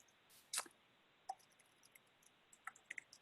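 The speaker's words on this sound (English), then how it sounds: "just typing up some responses here" Computer keyboard typing in a quiet room: a handful of soft, scattered key clicks, faint and irregular, with one slightly louder tap early on and no talking.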